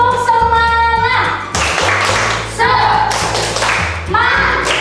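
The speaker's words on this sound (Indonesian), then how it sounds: "Sebelumnya tepuk semangat." A primary school class in Indonesia performs the rhythmic tepuk semangat clapping routine, with several bursts of group clapping and thumps mixed with chanting children's voices and tonal sound.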